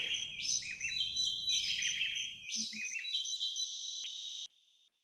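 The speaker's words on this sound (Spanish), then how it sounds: "Que es una interacción entre dos cantos, entre dos aves, con dos cantos diferentes en este caso particular." Two birds sing a duet, each with its own distinct song, their bright chirping phrases overlapping and alternating for several seconds, with a faint insect buzz underneath early on and no talking.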